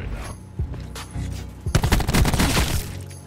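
Video game gunfire crackles in rapid bursts, dense automatic volleys building into a loud, continuous barrage in the second half.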